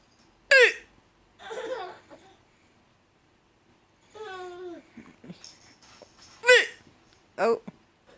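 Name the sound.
baby hiccups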